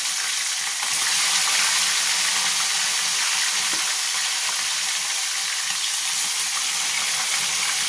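Fish sizzles steadily in hot oil in a pan, a dense continuous hiss and crackle heard close up with no talking.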